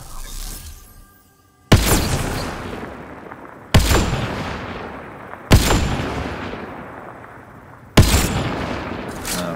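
Four loud, booming gunshots in the video game Mass Effect: Andromeda fire at spaced intervals, each with a long echoing decay, preceded by a quiet stretch.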